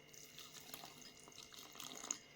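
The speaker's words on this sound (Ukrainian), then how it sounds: "Тепер це ми розводимо водою" Water is poured into a container to dissolve dry mustard, salt and sugar for quick-pickled tomatoes. There is a faint, soft trickle with light splashing and drips, quiet and close, with no voices.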